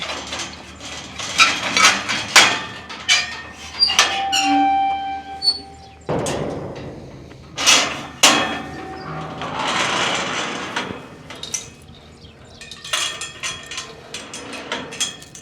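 A metal gate latch and chain clank and rattle shut in a barnyard with cattle, giving repeated sharp metallic clanks and squeaks in uneven bursts, close by.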